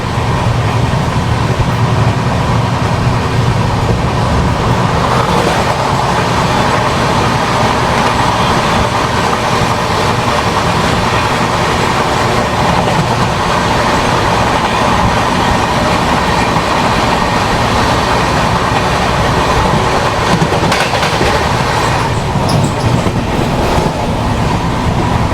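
Interior rumble of the Garib Rath express train running just after leaving Lucknow Junction, a loud continuous roar of wheels and carriage with steady rail clatter throughout and no voices.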